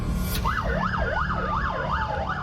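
An Australian ambulance races on a priority-one call on the M4 motorway tunnel, its siren wailing up and down in steady cycles over a constant low road rumble.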